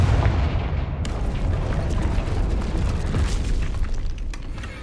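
A Confringo blasting curse from Hogwarts Legacy erupts as a dense, rumbling explosion that sustains loudly throughout, with a sharp crack near the start and booming low-end debris noise after it.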